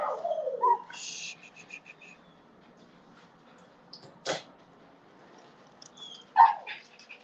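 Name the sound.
dog growling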